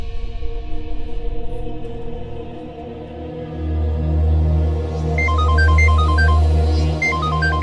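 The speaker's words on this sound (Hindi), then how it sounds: "ऋतिक का फोन?" A mobile phone ringtone plays in a TV drama, a repeating electronic melody entering over a swelling low dramatic music score, fairly loud with no talking.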